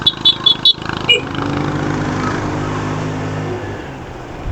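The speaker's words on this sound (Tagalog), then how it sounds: "madunggan ninyo ang tingog sa motor" A Honda Click scooter with a worn CVT slider piece idles after a few sharp clicks and knocks, settling into a steady, close engine and exhaust hum with a low, even drone.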